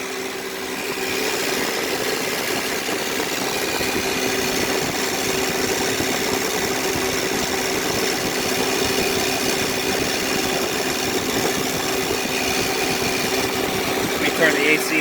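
A noisy power steering pump on a 2010 Honda Odyssey whines steadily under the running engine, a constant close hum with a high tonal whine that holds through the whole stretch.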